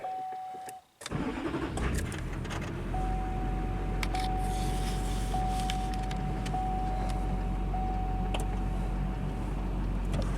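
A GMC 2500HD truck engine cranks and fires up inside a shop, then settles into a steady idle, loud and close, with a thin whine running over it.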